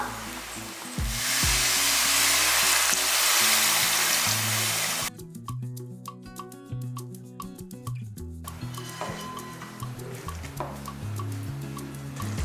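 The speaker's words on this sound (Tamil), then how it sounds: "இப்போ இதுக்கு பச்சை வாசம் போகிறதுக்கு கொஞ்சமாக தண்ணி ஊற்றிக்கலாம்" Loud hissing sizzle as a little water is poured into a hot pan of frying spice mix for eggplant curry, then the bubbling and frying settles into quieter crackles and drips.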